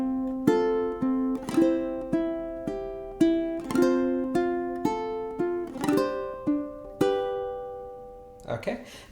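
A ukulele plays bars three and four of Canon in D, a series of plucked and strummed chords ringing and decaying one after another, close and clear, ending with a short muffled strum.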